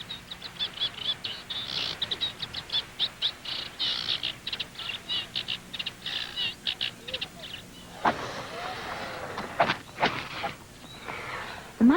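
Reed warblers call from the reeds at a swannery on a pebbled shore, a dense run of rapid, chattering chirps, fairly close, followed by a few sharper calls and rustling.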